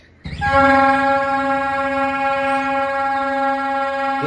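A flute blows one loud, sustained, steady tone that mimics a train horn, beginning abruptly and holding without a break, played by a flute seller on a street in Habra.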